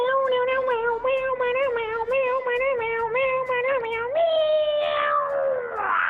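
A high wavering meow-like tone repeats in quick succession, then stretches into a long drawn cry that bends and slides downward, like a keyboard's cat-sound setting, close and loud throughout.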